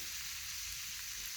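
Hot dogs in a hot cast-iron frying pan on a wood stove give off a steady, soft, even sizzle and crackle, with no voices.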